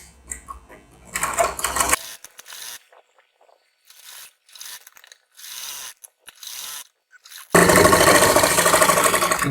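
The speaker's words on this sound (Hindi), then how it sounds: "किनारे मैं अब सिलाई लगा लेता हूँ।" A sewing machine stitches along blouse edges in two loud, rapid whirring runs at the start and end, with quieter clicks and fabric handling between them.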